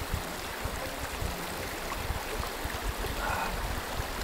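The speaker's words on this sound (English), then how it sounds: "We have a river running past, which has the cleanest, crispest, fresh mountain water." A clean mountain river runs past a remote Scottish bothy, making a continuous broadband rush and gurgle of flowing water that holds steady and fairly close throughout, with no voices.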